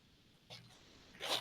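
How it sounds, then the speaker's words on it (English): A Chicco baby play yard's bassinet zipper is pulled to detach the bassinet. Two short fabric zip strokes are heard close up, the second one louder and longer. "And when you do the zipper, the whole bassinet comes off."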